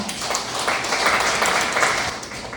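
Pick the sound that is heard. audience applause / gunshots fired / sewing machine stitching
audience applause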